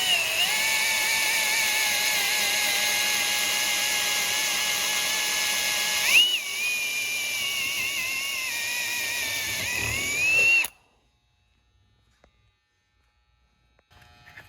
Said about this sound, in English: So we're going to take a hole saw and drill out the center of these so that will fit.